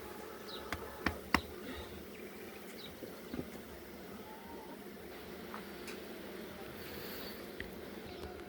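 Honeybees buzz as they are shaken off a hive frame, a soft steady drone close by with a few knocks and taps from the frame near the start.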